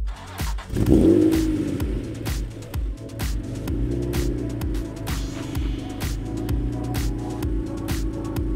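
Engine of a Honda NSX sports car heard from inside the cabin as the drive begins, a steady mid-pitched hum with a rev swell near the start, continuous and fairly close, with no talk.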